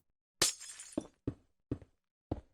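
White stained glass blocks placed in Minecraft, five crisp glassy clinking taps in an uneven sequence, the first one longer and brighter, each cut off cleanly with silence between.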